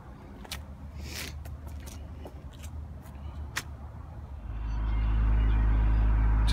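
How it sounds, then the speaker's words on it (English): A Honda Accord that had a no-start fault cranks and catches on a cold morning, settling into a loud, steady, low engine rumble close by after a stretch of softer background noise. "Just fired up the Honda"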